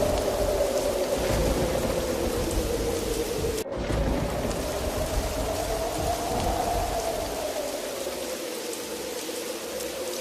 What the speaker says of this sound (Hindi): आसमान में बिजली के साथ तेज तूफानी बारिश शुरू हो जाती है।